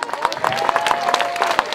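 An audience at a Paris political rally for the European election list L'Europe Ça Suffit claps steadily in a dense, sustained burst of applause with some crowd noise throughout.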